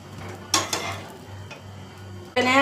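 Bread dipped in egg frying in a pan, with a steady low sizzle and a few sharp utensil scrapes and clinks against the pan, ending in a louder burst of crackling.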